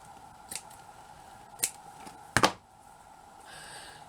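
Scissors snipping paper or card at a craft table while making a stickpin book, a few quiet separate cuts with the sharpest pair of snips near the middle, close and otherwise fairly hushed.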